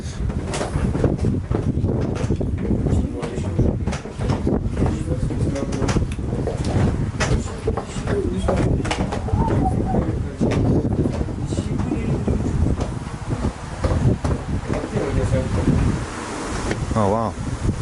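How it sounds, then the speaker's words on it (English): Strong wind gusting up a spiral staircase inside Dracula's castle, loud blustery rumble buffeting the microphone continuously, with scattered faint sounds and no clear talking. "There's a wind coming up here"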